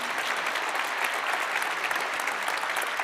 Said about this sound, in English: please join me in giving him a big round of applause